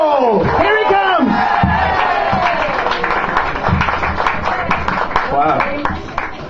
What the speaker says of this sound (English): please all start applauding